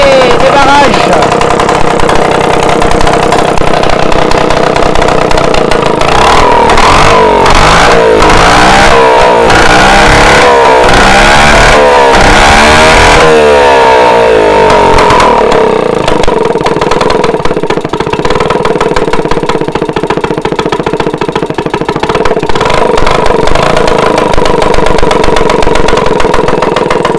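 A Motobécane AV 44 moped engine sputters, catches and revs up through a few rising bursts, then settles into a steady loud idle with close mechanical clatter.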